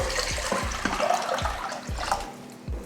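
Water splashes and gurgles steadily into a cooking pot, with a few soft knocks and thumps recurring throughout.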